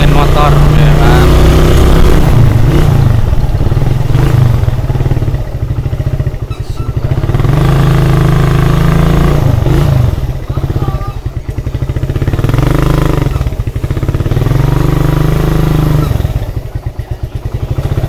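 A motorcycle engine runs steadily and loudly up close during a night ride around Cikotok, Lebak, Banten. Its low drone rises and falls in pitch throughout, with faint voices in the background.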